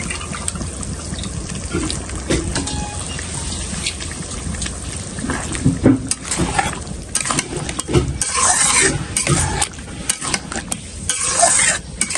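Meat being stirred and browned in spiced oil in a home kitchen pan, with a steady loud sizzle broken by repeated scraping strokes of a spoon, no talking.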